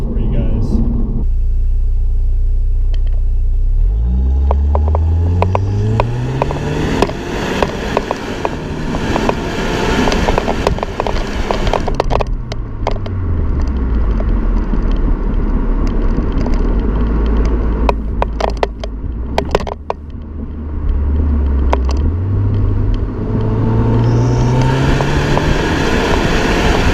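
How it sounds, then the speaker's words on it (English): A Saab 9-3 engine and exhaust drone loudly through repeated hard accelerations, the rising pitch sweeping up through the gears, then dropping and climbing again, with steady road and wind rumble underneath. "when you're accelerating and opening up the car and, you know, flooring it, it sounds horrible"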